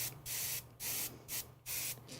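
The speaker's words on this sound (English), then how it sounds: "I'm just spraying." Airbrush spraying paint onto a scale model Siam Hawk hornet, close hissing bursts in four short pulses with brief gaps between them, no voices.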